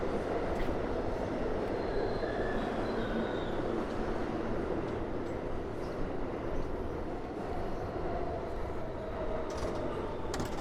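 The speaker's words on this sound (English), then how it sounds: "That underneath me is the 8th Avenue subway." A subway train on the 8th Avenue line in Manhattan rumbles steadily beneath a Chelsea street, a low continuous roar with faint wheel squeal on top.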